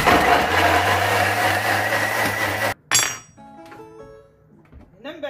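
A Thermomix grinds loudly at speed 10 with a dense, steady roar for a few seconds, then cuts off abruptly, followed by light clinks and a short voice.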